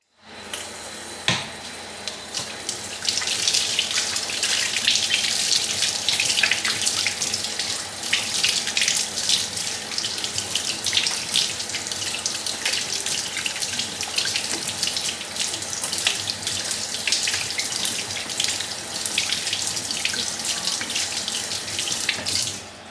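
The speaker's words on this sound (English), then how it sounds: "we finna wash our hands for 20 seconds" Water running steadily from a kitchen tap while hands are washed for about twenty seconds, a loud, close, continuous splashing hiss with small bursts as hands move through the stream, no talking.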